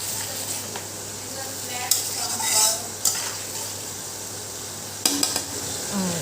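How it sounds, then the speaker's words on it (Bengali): Sweet pumpkin fries in a pan for a home-cooked meal, a soft steady sizzle broken by a few clinks and scrapes of a utensil against the cookware, with no talking. "আর এদিকে দেখো মিষ্টি কুমড়া ভাজা করতেছি"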